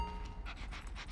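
A dog in the video game Grand Theft Auto V pants in quick, soft, rhythmic breaths over a low background hum.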